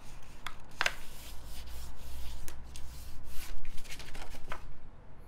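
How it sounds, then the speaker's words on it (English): Paper being folded in half for a pop-up Halloween skeleton, a series of close crisp rustles and sharp creasing swipes at an uneven pace. "Then let's fold those pieces in half."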